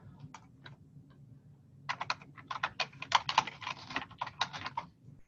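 Bursts of quick keystrokes on a computer keyboard while entering an address into a real-estate signing transaction, close and clear, starting with a few isolated taps before a dense, fast run of typing with no talk.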